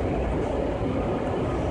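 Steady interior rumble of a moving train on the ride home, a continuous loud low roar of wheels and carriage with no pauses or talk.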